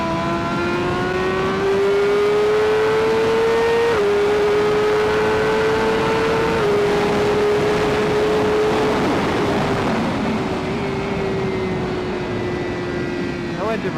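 A sportbike ridden on a racetrack holds a steady droning engine note that steps down in pitch in stages as the rider uses engine braking, loud and close with wind rush throughout.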